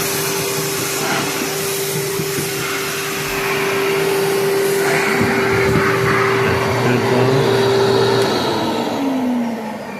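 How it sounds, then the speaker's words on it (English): A NuTone central vacuum cleaner runs steadily with a loud, constant whine and motor hum that lifts slightly partway through, then dips in pitch near the end as it begins to wind down, with no voices. "that's the central vac running"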